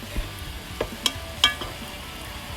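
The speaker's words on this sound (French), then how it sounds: "Donc là je mélange." Chicken curry with garlic and onions stirred in a pressure cooker, a soft background sizzle broken by a few sharp scrapes and knocks of a spoon against the pot, sparse and close; no talk.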